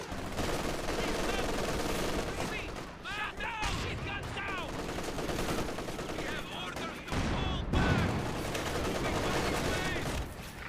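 Sustained machine gun fire in a Company of Heroes 2 battle, long rattling bursts overlapping with other shots and battle noise, loud and steady across the whole stretch.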